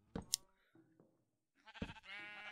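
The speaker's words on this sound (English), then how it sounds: "breeding the sheep, too" Sheep bleating in a modded Minecraft farm, a few short, close, nasal bleats, one near the start and a longer overlapping cluster toward the end, separated by quiet gaps.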